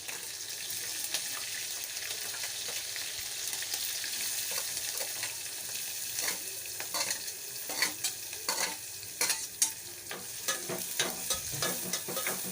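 Curry leaves frying and being stirred in a pan: a steady hiss of sizzling oil throughout, with sharper scrapes and spoon knocks growing busier toward the end, no talking.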